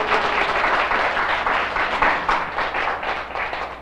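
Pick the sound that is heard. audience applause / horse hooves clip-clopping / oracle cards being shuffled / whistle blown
audience applause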